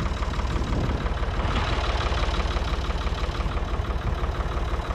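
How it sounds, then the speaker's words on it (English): A 60-year-old Ford 4000 diesel tractor engine idles close by after being pulled out of snow, a loud, steady, rapid knocking chug that runs continuously with no voices. "I love that magical sound of diesel."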